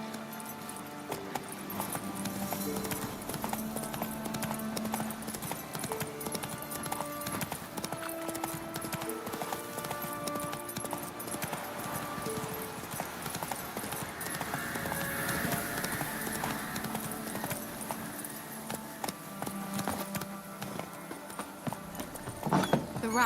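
Horse hooves clip-clop continuously in The Witcher 3: Wild Hunt as the horse trots along, steady rhythmic steps under game music and ambient sounds throughout.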